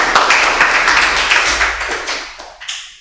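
A classroom of students claps together in a short, loud burst of dense, close applause that tails off within a few seconds.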